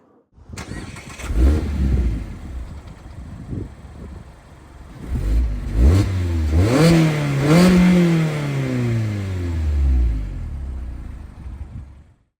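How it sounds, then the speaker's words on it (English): A 2024 Mazda MX-5 GS-P's dual exhaust barks to life, then revs up and down several times with deep, throaty rises and falls, close and loud. "why don't we listen to how this real dual exhaust sounds like."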